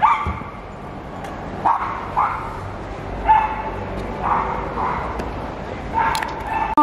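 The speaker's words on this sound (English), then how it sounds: "There's like a dog in that direction." Dog barking a few times at a distance on a city street in Rome, Italy, short yelping barks repeating over steady outdoor traffic and ambient noise.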